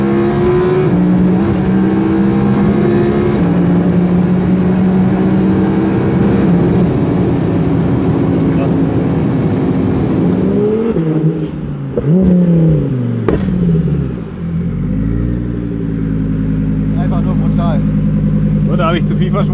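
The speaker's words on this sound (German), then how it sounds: "er wird hier vom Rastplatz runterfahren und direkt von 30 bis 250 wieder durchziehen" Audi R8 BiTurbo tuned past 1000 hp pulling away hard from a motorway rest stop, its engine roaring loudly in rising gear-by-gear sweeps with a shift break, then settling; people talk over it inside the car.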